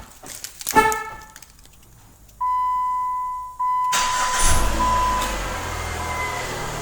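A 2007 PT Cruiser being remote started through a Fortin EVO-CHR T5 module: clicks and a brief chirp, then a steady tonal beep, the starter cranking, and the engine catching into a loud, continuing idle up close.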